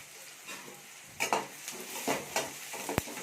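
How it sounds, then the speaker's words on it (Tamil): Crushed garlic goes into hot oil with softened eggplant in a pan, giving a quiet sizzle with a few stirring scrapes and a sharp utensil knock near the end. "இப்போ அதோடவே நம்ம தட்டி வச்ச பூண்டையும் சேர்த்துக்கலாம்"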